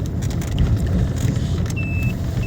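A car drives along an upper village street, its engine and road rumble steady and close throughout, with a faint high tone briefly appearing near the end.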